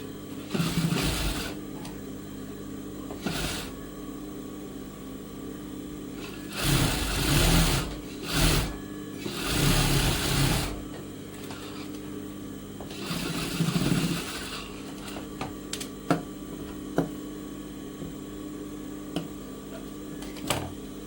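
An electric sewing machine stitches a blouse in several bursts, a close, rapid mechanical whirring that starts and stops repeatedly, with quiet pauses and small clicks between runs.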